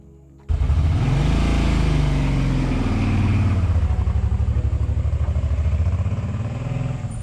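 A motorcycle fitted with a front and rear dual dashcam rides along a road, its engine starting loud and close with a steady, throbbing drone that holds the whole way through.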